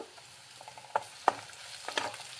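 Dried red chillies and ginger frying in a pan, a steady soft sizzle with a few sharp scraping stirs of a spoon against the pan, close and moderately quiet with no talking.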